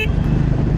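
A vehicle horn honks during a motorbike trip, a short loud blare over the low rumble of the engine and road noise, close by.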